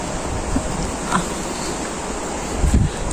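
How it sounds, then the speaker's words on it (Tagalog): Strong wind in Israel roars steadily past a fruiting crop, a constant rushing buffet with brief gusty swells and what sounds like surf in the background. "Lakas ng hangin."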